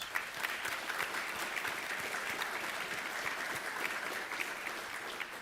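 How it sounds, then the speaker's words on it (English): Steady audience applause at a U.S. Naval Institute annual meeting honoring departing leaders, many hands clapping in an even, continuous patter, moderately faint and without speech. "Please join me in a round of applause for them, please."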